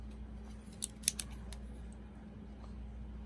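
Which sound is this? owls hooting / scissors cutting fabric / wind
scissors cutting fabric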